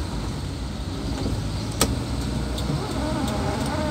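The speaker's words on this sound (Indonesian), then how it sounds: "Banyak kendaraan yang lewat di sini." Traffic rumbles steadily along a road in Pulang Pisau, a continuous loud wash of vehicles passing nearby with one brief sharp knock midway.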